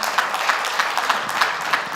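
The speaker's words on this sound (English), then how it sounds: "a round of applause for our panelists" A conference audience applauds panelists taking the stage at a business event, with brisk, evenly spaced claps rising out of a continuous patter of hands.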